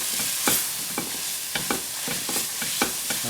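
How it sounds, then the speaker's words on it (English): A spoon scrapes and stirs curry powder and chilli masala paste frying in a pan for a chicken curry, with repeated close scraping strokes over a steady sizzle. "And then you mix that around, and this is starting to create your masala paste."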